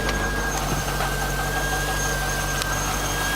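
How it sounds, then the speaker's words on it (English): A 345-horsepower LS1 V8 from a 2000 Chevrolet Corvette C5, with about 96,600 miles and an automatic transmission, idles steadily after starting, giving a constant engine drone with a thin, high squeal on top. "This engine starts right up."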